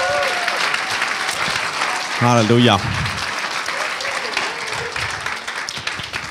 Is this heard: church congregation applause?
yes